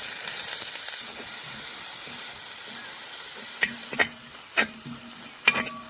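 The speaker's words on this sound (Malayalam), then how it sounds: "ഇനി ഇതിലേക്ക് കട്ട് ചെയ്ത് വെച്ച സബോള ഇട്ട് കൊടുക്കാം" Chopped onions hiss and sizzle in a hot pan while cooking paneer butter masala, with a steady frying crackle and a few sharp clinks of a spoon near the end.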